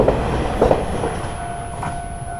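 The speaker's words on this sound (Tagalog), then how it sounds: "So yan pala yung train dito" A train passes nearby in Taiwan with a steady rumble and faint clickety-clack of wheels on rails, moderately loud for just over two seconds.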